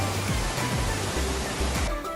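Sarang Walet waterfall in the Rinjani mountains gives a dense, continuous rushing roar of falling water, close and steady throughout with no gaps.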